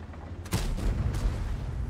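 A tank cannon shot in a tank combat video game, fired at an allied tank: a sharp, loud boom with a rumbling low tail, then a second thud a moment later, all over constant engine rumble.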